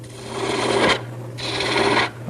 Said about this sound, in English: I'm starting to trim down the last 3 inches that becomes the dowel